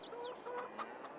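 Chickens cluck steadily on a farm in the Farming Simulator 22 video game, a close, continuous run of short clucks and calls with no talk.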